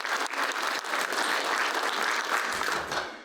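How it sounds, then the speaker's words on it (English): Audience at a community event giving a round of applause for Joey: steady, full clapping from a crowd that carries on for about three seconds before starting to fade. "So everybody give a round of applause for Joey."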